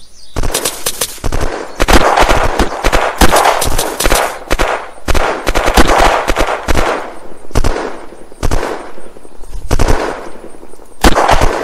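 Loud, close gunfire in Unturned battle royale, dense repeated bursts and single shots cracking back to back throughout, with a few brief gaps between volleys.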